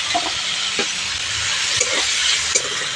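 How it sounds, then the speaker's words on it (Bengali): Prawns coated in salt and turmeric sizzle steadily in a hot pan with a couple of green chillies, a dense close hiss broken by a few soft clinks and pops. "চিংড়ি মাছগুলো ভেজে নেব"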